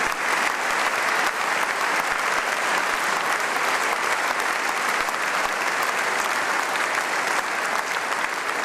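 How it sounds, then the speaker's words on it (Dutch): Sustained applause from an audience at a Frisian sports gala, honouring a disabled athlete: dense, steady clapping from a large crowd throughout, loud and even with no talking over it. "En mag ik nogmaals een applaus voor de gehandicapte sporter Rix van der Horst."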